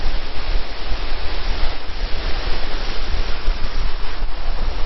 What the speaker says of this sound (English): There's still water coming down everywhere here.